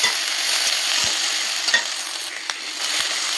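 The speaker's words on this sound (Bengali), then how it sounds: "দেখো কিন্তু আমার মশলাটা দিয়ে মাছের ডিমটা দিয়ে ভালো করে কষানো হয়ে গেছে।" Fish roe fries in a pan with mustard and ginger paste, giving a loud, continuous sizzle with a few sharp scraping stirs; no voices.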